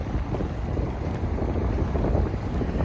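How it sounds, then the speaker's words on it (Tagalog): Wind blowing across open Kuwait desert, a steady loud rush and buffeting against the microphone throughout, close and continuous with no talk. "Ayan, hangin, oh."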